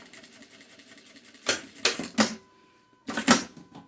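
A sewing machine runs a short backstitch while a patchwork organizer folder is sewn, in several quick loud bursts of rapid stitching separated by pauses, close and clear with no talk.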